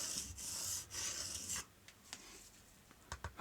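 An old Cold Steel Recon Tanto knife is sharpened on a whetstone, rasping in a few close, rhythmic strokes before scattered light scrapes and taps.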